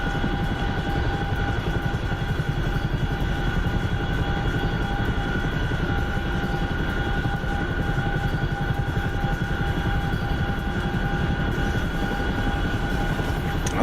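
A helicopter cruises along a coastline at night, its rotor and engine heard from inside as a steady, loud, continuous drone with a fast blade thump and whining tones, no voices.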